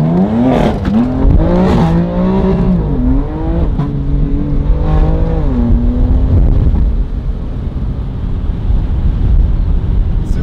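A BMW M3 Competition with a tuned engine slides around a corner, loud, close and sustained: revs rise and fall in several sweeps under heavy wind buffeting, then settle into a steady roar.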